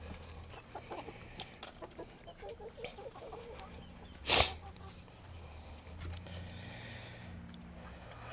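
Hens in a backyard flock clucking softly and intermittently at a moderate distance, with scattered pecking and rustling, a brief loud clatter near the middle, and no talk.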